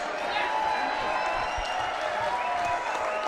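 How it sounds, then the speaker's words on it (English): Arena crowd at a professional boxing match applauds both fighters in the ring, a steady broad wash of clapping and cheering that holds evenly throughout, with murmuring voices mixed in. "a big round of applause for both of the boxers in this ring, please."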